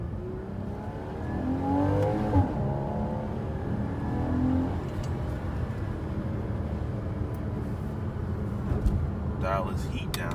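A Porsche 981 Boxster driven through canyon roads, its engine revving and rising in pitch in bursts under steady road and wind noise, with a voice talking over the drive.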